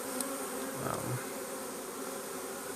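Honeybees fan and buzz at a hive entrance just after a swarm is hived, a dense continuous drone close by with individual bees passing near.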